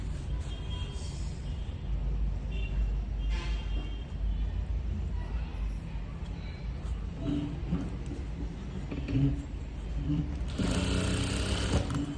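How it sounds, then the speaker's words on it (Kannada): A sewing machine runs in bursts while stitching a border on a child's skirt, a close, steady mechanical whir with brief pauses. "ಈ ರೀತಿ ಸ್ಟಿಚ್ ಹಾಕ್ಕೊಂಬಿಟ್ಟಿದ್ದೀನಿ"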